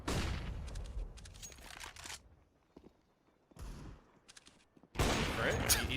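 AWP sniper rifle fire in a Counter-Strike esports match on the Train map: loud bursts of gunfire at the start and again at the end, with a quieter stretch of faint game sounds between.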